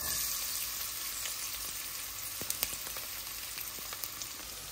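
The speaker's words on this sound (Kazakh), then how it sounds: "Қызғаннан соң пиязымызды саламыз." Onions frying in hot oil in a cooking pot, a steady close sizzle and crackle with a few faint clicks and light stirring taps, no voices.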